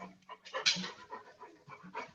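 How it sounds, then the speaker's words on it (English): A thirsty dog panting quietly close by, quick rhythmic breaths in short bursts with brief pauses. "That dog wants water so bad."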